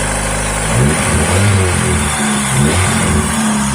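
A car engine that has just had a new set of injectors and new lifters fitted revs up and settles, loud and close, with rising and falling pitch over a steady idle and no talking.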